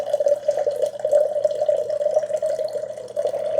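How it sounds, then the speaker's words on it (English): Steady running water as a Ninja Thirsti WC1001 drink maker runs a fresh water rinse from its reservoir through its chamber into a container, continuous and fairly loud with a constant hum underneath. "This way it'll run water kind of through this chamber and kind of just a fresh water rinse."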